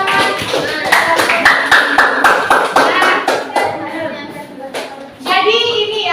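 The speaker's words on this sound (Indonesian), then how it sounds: "Tepuk tangan." Classroom applause after a closing greeting, many hands clapping in a steady crowded rhythm, with children's voices mixed in and a brief dip before the clapping swells again.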